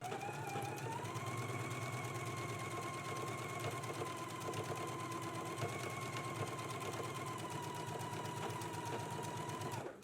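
Sewing machine running continuously while stitching a bodice shoulder seam at a 5/8 inch allowance, a fast, even mechanical whirring rattle held close and steady for the whole stretch.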